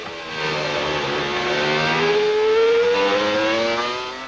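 A Formula 1 car at the 1999 European Grand Prix at the Nürburgring, with a high-pitched engine rising in pitch as it accelerates, loud and steady for several seconds, with no talk over it.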